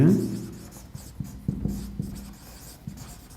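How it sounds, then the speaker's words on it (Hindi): A pen writes an accounting adjustment entry, giving soft close scratching strokes with small taps in an irregular rhythm, faint and alone after a brief murmur at the start. "हम लिखेंगे यहाँ पे रमेश"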